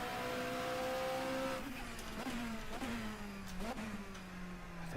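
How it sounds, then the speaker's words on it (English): Racing car engine in a 1990s classic endurance racing video game, revving steadily then dropping through several downshifts with sharp blips, loud and close, with brief tyre noise. "The downshift sound effects of this car, my, those are good."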